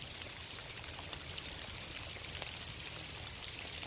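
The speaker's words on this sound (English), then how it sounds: "So there is a lot of water flowing." A small creek swollen after heavy rain rushes in a steady, broadband wash of flowing water, close and continuous with no voices.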